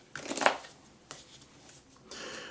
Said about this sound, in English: We're going to go ahead and shuffle, and see what your message is for this marriage